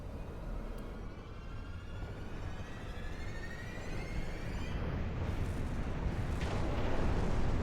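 Sustained rumbling missile fire and explosions in a sci-fi video game battle, a dense continuous roar with rolling booms that grows slightly louder throughout, and no talk over it.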